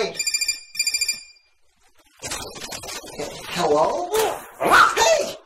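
A phone rings in a short electronic trill, two quick bursts, then stops as voices and a scuffle take over in a Stitch's Great Escape game scene.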